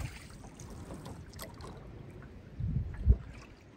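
Oars dip and pull through water as a small boat is rowed, with soft swishes and gurgles, then a louder splash and knock near the end, close by, with no talk.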